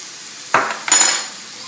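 Two short scraping stirs of a spoon through a cornstarch mixture in a pan, each a brief swish of about a quarter second, close and clear with no voices.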